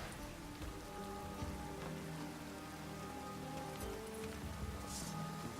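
Steady rain pours over the city streets in The Witcher 3, a dense even hiss of drops spattering on surfaces throughout, with faint background tones underneath.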